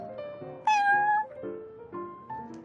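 A cat meows inside the Genshin Impact video game, with a clear, drawn-out call standing loud over soft background game music.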